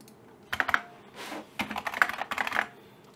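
Fast bursts of computer keyboard typing while an nginx config is entered, close clicks in short runs separated by a brief pause.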